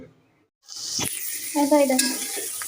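Small shrimp frying in oil with salt and turmeric, a sizzle that starts abruptly and holds steady with stirring scrapes, a short tonal squeak over it partway through, close and moderately loud.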